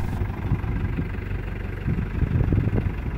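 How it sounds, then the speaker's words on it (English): A tractor engine runs at a steady, low rumbling idle close by as the tractor turns around, constant throughout with no talking. "going to turn the tractor around now and use the forks to lift up the rear end"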